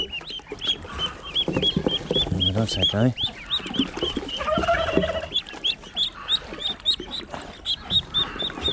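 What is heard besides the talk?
ducklings during their first bath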